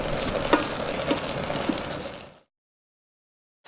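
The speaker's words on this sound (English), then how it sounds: "At this point add peppers. And let it fry in the oil for a minute." Peppers fry in hot oil with a steady, close sizzle and a few soft stirring clicks, then cut off abruptly into silence.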